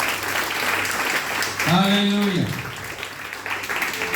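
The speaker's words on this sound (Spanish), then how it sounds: "Dale un aplauso fuerte al Señor con todo tu corazón." A church congregation claps loudly and steadily in worship, while a voice calls out once over the applause partway through.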